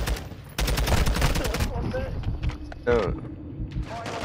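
Rapid automatic gunfire rattles in bursts during a deathmatch round of an online shooter video game, with more scattered shots after. A player's short exclamation and voice chat are heard over the gunfire.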